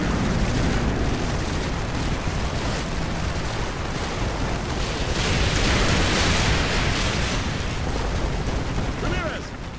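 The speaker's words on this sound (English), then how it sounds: "Artillery inbound." Artillery strike explosions in Call of Duty: Modern Warfare 2, a dense, continuous roar of blasts and rumbling debris, loud and sustained throughout with a swelling peak midway.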